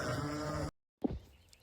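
Sheep bleat on a farm in Spain, a long wavering bleat, then a pause and a shorter, sharper call, close and fairly loud with no talking.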